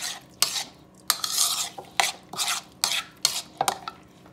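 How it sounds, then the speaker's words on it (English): A spoon repeatedly scoops and scrapes avocado salsa from a bowl onto black bean soup, giving a series of close, crisp clinks and scrapes in a steady, uneven rhythm with no talking. "you just spoon a little bit of this on top, it says"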